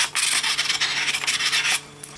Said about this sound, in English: use an 80 grit best block for demanding sanding to smooth the facets off this corner